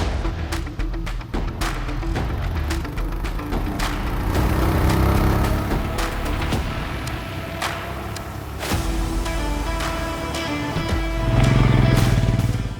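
A 2020 Royal Enfield Himalayan BS6 adventure motorcycle being ridden, its engine rumbling and rising and falling close by, with wind noise and a few knocks and thumps along the way.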